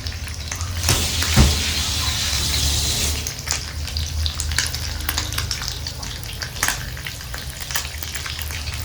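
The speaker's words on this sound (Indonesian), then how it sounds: "Goreng lagi ya." Steady crackling sizzle of liver frying in hot oil for sambal goreng ati, with occasional stirring clatters and a brief louder burst near the start.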